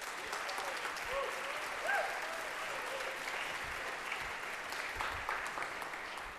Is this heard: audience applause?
yes